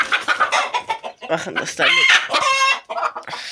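Chickens cluck and squawk close by in a backyard coop, with a rooster's crow-like calls rising in bursts over a short stretch while someone speaks briefly at the start.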